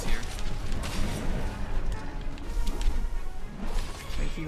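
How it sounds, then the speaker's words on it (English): An explosion in Monster Hunter World, a broad, sustained rumbling crash with whooshing swells, loud and dense throughout with no talk over it. "Thank you, explosion."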